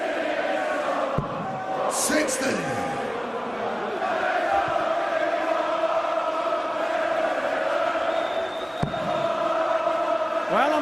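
Darts crowd at the PDC World Matchplay final between Taylor and van Barneveld: a loud, continuous arena roar and chanting with a few sharp bangs, under a commentator's voice.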